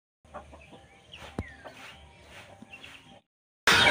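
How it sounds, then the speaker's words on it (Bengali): An Aseel rooster clucks in a run of short, close calls over about three seconds, a few sharper notes among softer ones, before a sudden loud burst of noise cuts in. "এই যে আপনারা দেখুন এই মোরগটা বিক্রি হবে।"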